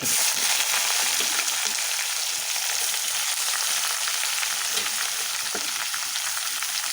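Ginger and garlic sizzle steadily as they fry in oil in a pan while an onion-based crab roast for a Kerala fish curry meal is being started; constant, close, loud crackling hiss throughout, no talking.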